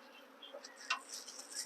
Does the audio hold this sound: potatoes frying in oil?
no